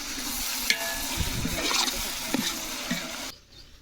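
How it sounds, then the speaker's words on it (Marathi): Ginger-garlic paste sizzles in a pan while being stirred outdoors in a field, a steady close frying hiss with a few scraping knocks of the spoon, cutting off abruptly near the end. "आता आलू लसूणची पेस्ट टाकतोय. तिला हालून घेतो."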